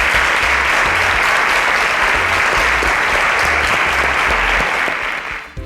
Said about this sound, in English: A round of applause for our panelists, please.